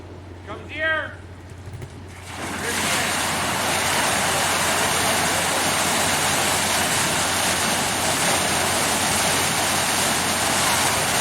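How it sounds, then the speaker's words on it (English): Water bursts from an AquaDam pipeline discharge at a Trans Canada Pipeline site in Fox Creek, Alberta, onto a spray mat: a brief voice, then a loud, steady, close rushing roar that continues without pause. "Here comes the water."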